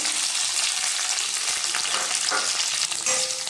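Mustard seeds, cumin, fenugreek and small shallots fry in hot oil with a loud, continuous sizzle and crackle, stirred now and then, close up and with no talking.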